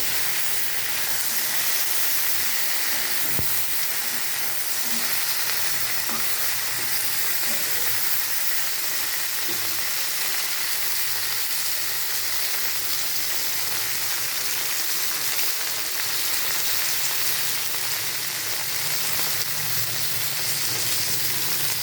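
Okra (bhindi) frying in a pan for a home-style sabji, giving a steady, continuous sizzle with a few soft clicks, close and even throughout with no voices.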